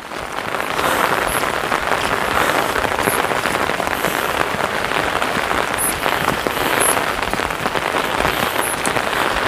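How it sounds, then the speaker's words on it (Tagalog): Heavy rain pours steadily through a foggy mountain forest, a dense continuous hiss of drops on leaves and ground that stays loud and unbroken throughout, with no voices. "Lumakas ang ulan."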